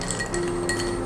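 A spoon clinks repeatedly against a glass while stirring a kiwi tequila cocktail, producing light, close, rhythmic taps over a steady background hum.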